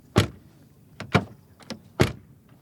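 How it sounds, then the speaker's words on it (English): A Porsche 911 (992) door slams shut with a solid thud, followed by a couple of lighter latch clicks and a second firm slam, close by. "but what about the door closing sound?"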